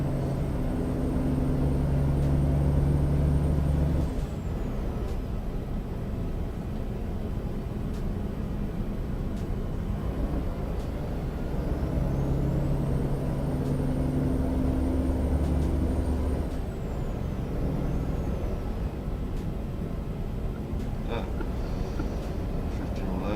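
Simulated truck engine from a modded trucking video game, a steady low drone with rising and falling pitch as gears change and occasional hissing air brake releases, running under continuous talking throughout.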